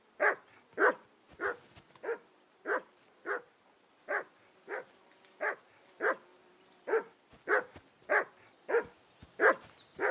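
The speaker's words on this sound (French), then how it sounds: "Je n'en pouvais plus de ces aboiements." A dog in the video game Kingdom Come: Deliverance II barks in a steady, regular series of about seventeen sharp barks, each spaced under a second apart. The barks are moderately close against a quiet background.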